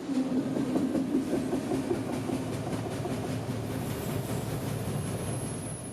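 A freight train rolls past, a steady rumbling drone with faint wheel clatter, fairly close and sustained throughout without any voices.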